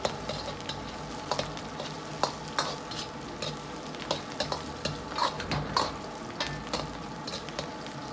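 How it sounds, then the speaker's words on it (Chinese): Pork slices stir-fried in hot oil with scallion, ginger and garlic sizzle steadily while a spatula scrapes and clacks against the wok in irregular strokes, close and clear with no voices. "炒至肉片卷曲微黄出油脂，然后放入葱姜蒜，煸炒出香味"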